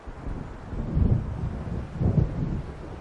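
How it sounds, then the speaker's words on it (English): Thunder rumbles low through a stormy night in Alan Wake Remastered, two deep rolling swells about a second apart over a constant bed of wind and rain. "It seems there's a storm coming."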